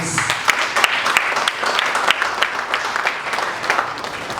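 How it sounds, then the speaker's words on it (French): An audience at a panel discussion on women's rights applauds the panelists, a steady wash of many hands clapping that carries on evenly for several seconds with no one talking. "J'aimerais vous prier de bien vouloir applaudir une fois encore nos panélistes."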